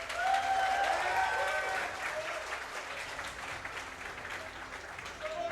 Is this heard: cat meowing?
no